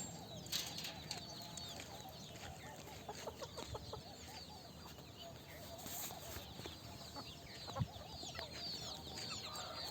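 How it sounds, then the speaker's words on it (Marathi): Free-range village hens cluck softly while they scratch the ground for food. The clucking is quiet and somewhat distant, with faint rustling and outdoor background noise, and no speech. "कोंबड्या उकरून खातात मित्रांनो"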